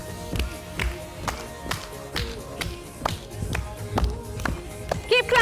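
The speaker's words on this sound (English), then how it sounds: "Keep clapping" A group claps along during an exercise workout, sharp hand claps landing in a steady rhythm of roughly one to two per second, close and fairly loud over background music and shuffling movement.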